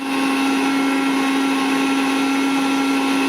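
An electric blender grinds poppy seeds into paste, a loud, constant high-pitched whirring motor drone running unbroken and close for the whole stretch.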